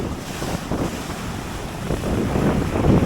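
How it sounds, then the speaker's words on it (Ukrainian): Stormy Black Sea surf and strong wind on the shore, a continuous rushing roar of waves with heavy wind buffeting the microphone, loud and steady with no talking. "Ось воно наше Чорне море."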